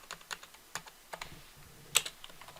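Keys clatter on a computer keyboard as Ctrl shortcuts are pressed, a scattered series of light close taps with one louder click near the end.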